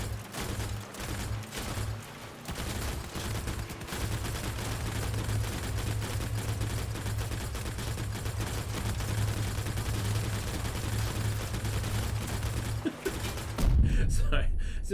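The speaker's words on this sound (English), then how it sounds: "you get constant like alternating fire" Alternating turret gunfire from armed vehicles in the combat game Crossout, a sustained stream of rapid, staccato shots under a low engine drone, with a voice talking over it and a louder burst near the end.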